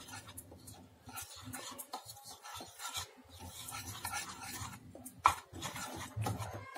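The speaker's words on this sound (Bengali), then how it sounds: "বেকিং সোডাটা দিয়ে এটার সাথে ভালো করে মিশিয়ে নেব" Flour dough with baking soda being mixed by hand in a bowl, heard as steady rasping, rubbing and scraping that continues without pause, with a brief sharp knock near the end.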